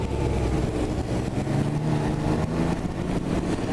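Can-Am Ryker 900 ACE, a 900cc automatic three-wheeler, under way with a steady, fairly loud engine hum and road noise throughout, no voices.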